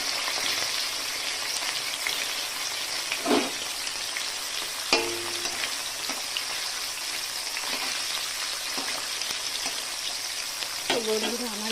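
Bashpata fish fry in a wok with spice powder, giving a steady loud hissing sizzle like rain throughout, with a few brief clinks and scrapes of a utensil near the pan.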